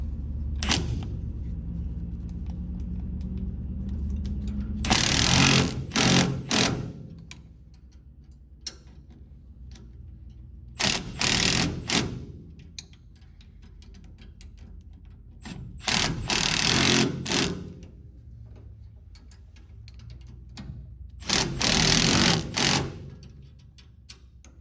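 A power drill whirs in four short bursts of about a second each during a traction bar install, separated by quieter pauses with faint handling noise.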